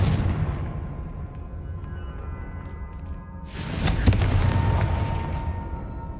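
Confringo fire-spell blast from Hogwarts Legacy, a sudden loud boom bursting in midway and rolling on as a sustained roar, following a quieter stretch of rumble.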